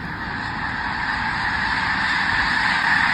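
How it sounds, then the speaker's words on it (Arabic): A large flock of migrating geese honks and calls continuously in Kenya, a dense, steady chorus of many overlapping bird voices filling the scene with no talking. "أسراب ضخمة من الطيور المهاجرة عددهم ممكن يوصل لآلاف بيطيروا مع بعض"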